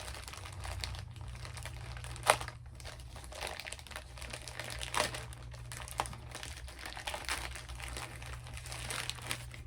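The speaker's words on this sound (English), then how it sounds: "This package don't want to come open." Plastic packaging crinkles and crackles steadily while someone struggles to get a package open, with a few sharper tearing snaps standing out over a low background hum.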